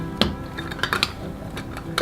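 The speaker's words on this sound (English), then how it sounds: "Now my pot, fold up the handles, put the cup and stove inside, put my small coffee filter in" Metal camping cookware being packed: a cup and a small stove knocked and slid into a camping pot with folding handles, giving several sharp clinks and clatters close by, with no talking.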